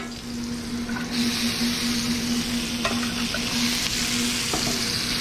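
Eggplant stir-frying in oil in a wok on a home burner for Sichuan-style hot and sour eggplant, a continuous loud sizzle with stirring scrapes and a few sharp clicks, close and steady throughout.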